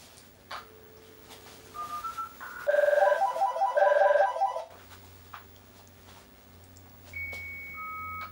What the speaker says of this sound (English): I'll connect the phone line to the original micro modem